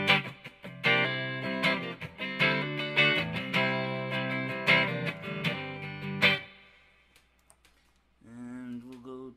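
Electric guitar played through a Peavey amp with the bright switch engaged, loud chords and picked notes ringing for about six seconds, then a pause and a short sustained chord near the end.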